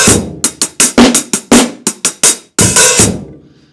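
A drum kit plays a pattern with a fill worked into it: a run of loud, sharp, evenly spaced hits, a brief gap, then a heavier crash-like stroke that rings out and fades, close and alone.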